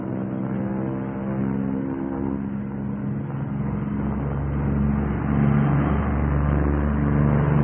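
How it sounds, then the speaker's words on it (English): Piston engines of a restored P-38 Lightning during a takeoff with the right engine cut, a loud steady droning hum with layered tones that swells slightly partway through, alone without talk. "Tony, simulate single-engine failure on takeoff"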